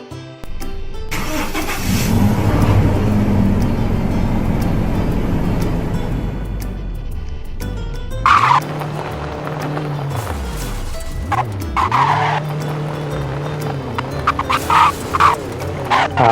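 A Toyota Innova V2.7 engine in a Roblox off-road driving game starts and revs, then drops to an idle with repeated rising and falling revs and knocking bumps over rough dirt and water terrain, with no talk.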